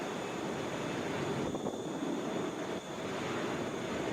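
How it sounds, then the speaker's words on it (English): Flight 2420 from Nashville, an airliner, passes by at Atlanta airport as a steady broad roar of jet engine noise mixed with wind buffeting the microphone, with no talking. "That was 2420 coming in from Nashville that just flew by."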